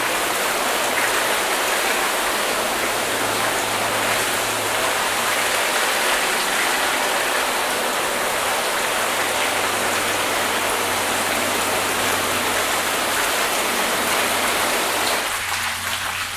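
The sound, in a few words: water rinse spraying over coated car panels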